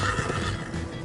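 A horse whinnies in Minecraft Story Mode, a loud, close neigh lasting about a second over a dense game soundscape.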